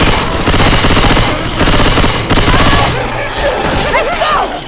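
A mounted machine gun in Left 4 Dead 2 fires in loud, rapid sustained bursts with brief pauses between them, fading toward the end under game noise.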